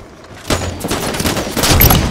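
Rapid bursts of gunfire crackle in the shooter video game Halo 5, a dense fusillade of overlapping shots loud and close across about two seconds.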